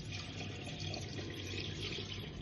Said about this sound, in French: On va le mettre ici au cas où le robinet est ouvert et on va le remplir.